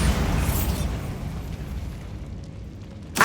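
A Bombarda spell explodes in Hogwarts Legacy with a loud, broad blast that rumbles and slowly fades, followed by a sharp fresh burst right at the end.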